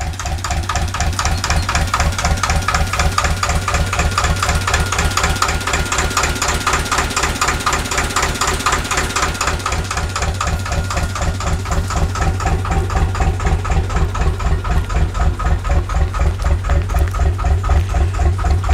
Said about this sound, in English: it's got a 1950s Lister engine